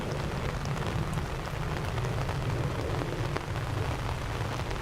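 Heavy rain falls steadily at Dublin Airport on a murky day, a dense, continuous roar of drops pounding surfaces with a deep low rumble underneath, loud and unbroken throughout.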